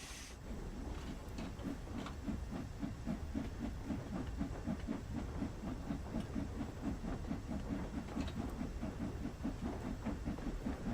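Steam locomotive in Train Sim World 3 hissing steadily, with a regular chuffing beat running beneath the hiss throughout, close and even in level, with no voices.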